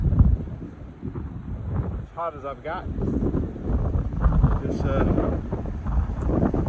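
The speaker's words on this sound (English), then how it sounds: "Kind of windy up here" Gusty mountain wind buffets the microphone in a heavy low rumble throughout, while a person talks over it.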